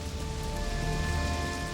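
Rain falls steadily, a dense, even hiss of drops on surfaces with a faint low rumble underneath, continuous and without voices.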